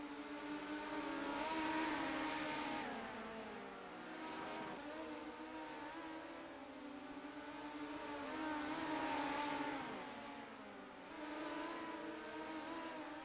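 Dirt-track race cars in a feature race, two drivers trading sliders for position while the field circles; a continuous loud engine roar swells and fades as cars pass, with no talk.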